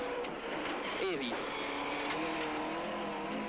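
A borrowed Ford rally car drives hard along a forestry stage at the 2005 Sean Conlon Tipperary Forestry Rally, its engine droning steadily and close throughout, with a brief voice rising over it.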